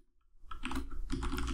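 Computer keyboard typing while writing code for a Unity VR project, a close quiet patter that starts after a brief silence and continues as two dense bursts of keystrokes.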